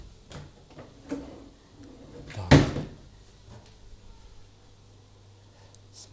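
Hotel room cupboards and drawers in a Patong, Phuket hotel being opened and shut, several soft knocks and one sharp bang in a quiet room.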